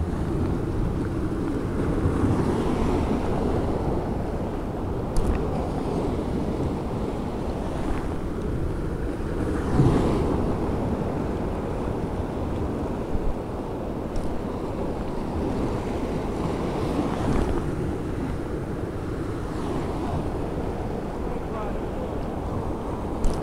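Sea waves break on an Italian shoreline where someone is fishing, a continuous loud wash of surf with periodic swells and heavy wind buffeting the microphone.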